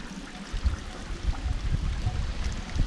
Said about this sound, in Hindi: आप देख सकते हैं यहाँ से कंटिन्यू पानी चल रहा है।